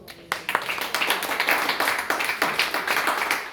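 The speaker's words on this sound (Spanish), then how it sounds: "Dale palmas a Cristo." Church congregation clapping hands during a Spanish-language discipleship lesson on meditation, a loose, lively patter of many palms with sharper individual claps standing out, building after a quiet opening and continuing steadily.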